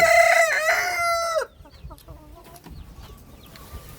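A rooster crows loudly up close, then several chickens cluck and chatter softly in the background.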